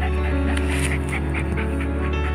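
A dog pants at a farm in Tarlac, with quick, rhythmic breathy puffs close by under a steady hum of background noise.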